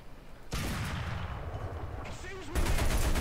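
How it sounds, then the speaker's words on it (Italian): Gunfire rattles in the War Thunder video game, a loud dense barrage of rapid shots that starts abruptly and holds steady before an even heavier burst, close and continuous. "Guarda dove sto sparando."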